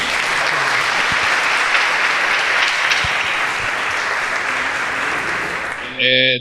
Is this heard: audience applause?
yes